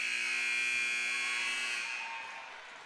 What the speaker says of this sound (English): the buzzer went off while the serve was in the air